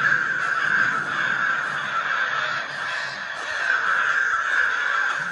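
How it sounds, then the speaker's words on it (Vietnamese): A crow caws repeatedly in a dark forest setting of a horror video game, harsh calls sounding over a steady hissing ambient drone, moderately loud with no talk. "Tiếng kêu của quạ."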